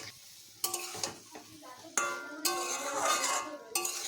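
Poppy seed and mustard paste being stirred into boiled potatoes in a pot, with a spoon scraping and clinking against the metal in several distinct bursts over a faint sizzle, close and fairly loud, with no talking.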